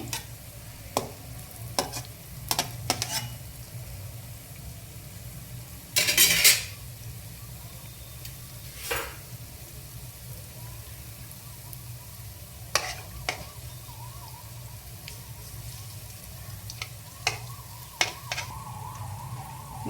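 Sweet banana bonda frying in hot oil: a low steady bubbling sizzle runs throughout, broken by scattered clinks of a utensil against the pan and a brief louder burst as pieces are turned over.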